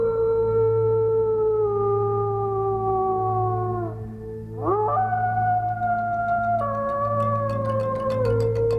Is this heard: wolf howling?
yes